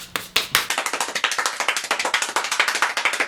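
Very fast clapping at a sports game, a rapid steady stream of sharp hand claps with hardly a gap, loud and close, lasting a few seconds.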